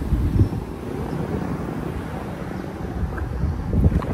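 Wind blowing outdoors on a hot day around a parked 2012 Chevrolet Tahoe police SUV, a continuous low rumbling buffet with gusts swelling near the start and end, no voices.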